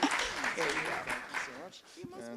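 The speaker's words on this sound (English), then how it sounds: "So why don't we give a round of applause for Mike as he comes on up." Audience applause at a climate summit greets a speaker coming up, with clapping heard underneath a voice talking over it.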